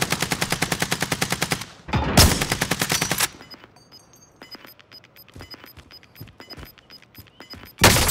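In a Call of Duty Warzone Rebirth Resurgence match, loud, rapid automatic gunfire rattles in fast bursts, followed by scattered single shots and light metallic clinks, then another sharp burst at the end.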